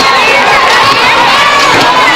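An enthusiastic crowd at a women's professional softball game between the Dallas Charge and Chicago Bandits cheers loudly and continuously, with shouting voices swelling throughout.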